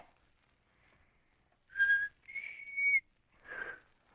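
A few short, breathy whistled notes, sputtering and uneven, with gaps of quiet between them, close and fairly soft.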